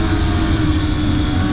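A 2012 Ski-Doo TNT snowmobile engine droning steadily while being ridden on a snowy trail, a loud, continuous mechanical hum with no break.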